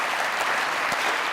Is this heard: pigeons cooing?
no